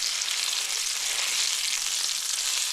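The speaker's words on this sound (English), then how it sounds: "you just make sure that each side gets a nice good sear" Venison searing in a hot pan before going into a crock pot roast, a steady close sizzle and frying hiss that holds even and loud throughout without pause.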